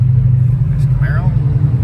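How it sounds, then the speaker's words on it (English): A Chevrolet Camaro engine rumbles low and steady nearby, a deep continuous drone with a faint higher whine briefly over it. "There's Camaro."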